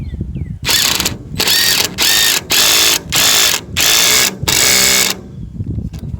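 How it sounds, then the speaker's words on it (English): A Black & Decker cordless impact wrench driving screws into a fence post, loud close bursts of rapid hammering rattle, about six pulses separated by short pauses. "don't even use the drill for this, use an impact wrench"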